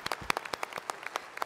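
Sparse clapping from a graduation ceremony audience honoring top-ranked candidates: a brief scatter of separate claps, quiet and tapering off as the applause ends.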